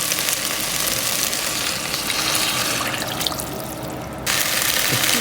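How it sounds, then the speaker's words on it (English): A continuous loud rush of water pouring into a pot of frying vegetables for Japanese curry over a sizzling, crackling background, the hiss briefly dipping before the pour surges again. "I'm going to add the water."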